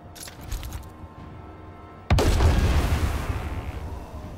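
Artillery fire in the WWII video game Headquarters: World War 2, a sudden loud blast that rolls into a long booming rumble after a quieter stretch of distant battle noise.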